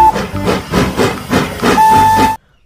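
A toy Thomas train gives a steam whistle that sounds at the start and again near the end, over a steady puffing hiss of rhythmic chuffs that stops abruptly.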